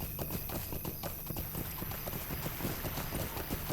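Rapid, steady clip-clop of horse hooves at a trot in the game Lord of the Rings Online, close and continuous, over a constant background hiss.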